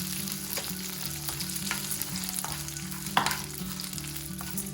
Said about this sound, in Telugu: పచ్చిమిరపకాయలు కొద్దిగా వేగాక శనగపప్పు వేసి వేయించుకుందాం.